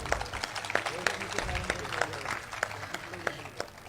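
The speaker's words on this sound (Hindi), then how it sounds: "एक बार तालियों से मुझे बताइए कि आप मुझे सुन रहे हैं।" An audience claps at a Hindi poetry recital, producing a faint, somewhat distant patter of steady, evenly spaced claps from a modest crowd.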